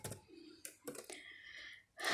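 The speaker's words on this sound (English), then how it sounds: "I'm just typing hello all" Typing on a computer keyboard while writing a first Java program in BlueJ, several short bursts of close, crisp key clicks with brief pauses between them.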